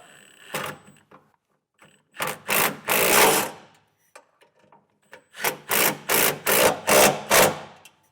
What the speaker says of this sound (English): Then we'll take a 1/2-inch socket and snug these up.